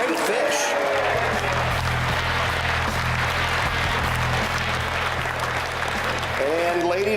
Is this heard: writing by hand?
no